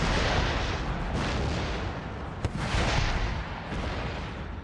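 Dense, continuous rumbling of artillery cannon fire in the video game Empire: Total War, with a few sharper booms cutting through, loud and roaring throughout.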